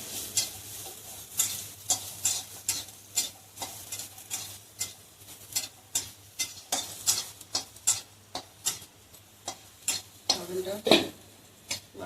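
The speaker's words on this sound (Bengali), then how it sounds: "অল্প অল্প একটু লবণ দেবো লাল লাল করে সয়াবিনটা ভেজে নেবো" Soybean chunks seasoned with salt and turmeric fry in a pan, giving repeated scraping stir strokes and spatula clinks over a steady low sizzle, close and fairly loud, with a voice speaking now and then.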